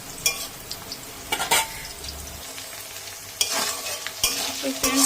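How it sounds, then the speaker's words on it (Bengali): Potato pieces sizzle in hot oil in a pan as they are browned for a light Bengali hilsa curry with ridge gourd, with a spoon stirring and scraping steadily through the frying and occasional louder scrapes. "আলুটাই আগে দিলাম হালকা হালকা একটু সিদ্ধ করে নিই আর একটু ভেজে নিই লাল লাল করে"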